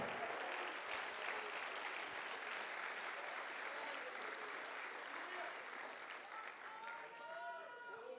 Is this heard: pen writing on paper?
no